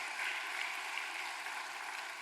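Congregation applauding during a Baptist church service, a steady wash of hand claps that stays even and moderately loud throughout.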